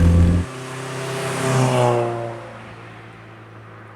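A Volkswagen Scirocco 16V starts with a deep exhaust rumble, then shifts into a rising, throaty blend of intake and exhaust noise that swells and fades as the engine revs, all loud and close.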